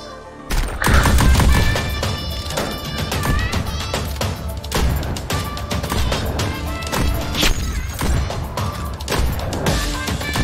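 Rapid gunshots ring out in the VR rhythm shooter Pistol Whip, dual pistols firing in quick bursts over pounding electronic music, loud and continuous with crashing hits.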